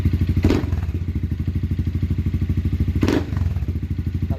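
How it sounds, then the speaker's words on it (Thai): A 2022 Honda Forza 350 scooter engine idles with a steady, rapid putter, surging briefly in two quick revs about two and a half seconds apart. "เบิ้ลให้ฟังหน่อย"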